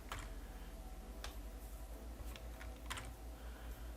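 Soft, sparse keystrokes on a computer keyboard, a few quiet clicks and taps in a quiet room with no talking.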